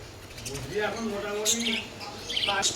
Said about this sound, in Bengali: আর এখানে রয়েছে বদ্রি রয়েছে দেখো বদ্রির কালার কোয়ালিটিগুলো দেখো